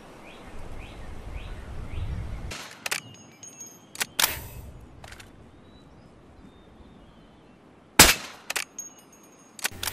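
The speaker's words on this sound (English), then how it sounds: "You will see me shoot Charlie in the head, and then after I will shoot him again, but from further away." Single gunshots from the Battlefield Hardline video game, fired at a target: a few sharp, separate cracks spaced seconds apart over quiet background ambience.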